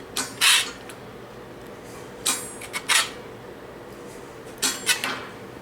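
A pedal-operated metal shrinker-stretcher works sheet metal panel stock, giving a few sharp metallic creaks and clunks at irregular intervals, fairly close, with quiet gaps between strokes.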